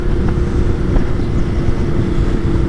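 A 2020 BMW R nineT Scrambler motorcycle on the move, a steady loud engine drone mixed with heavy wind rush and road noise, continuous and close with no talk.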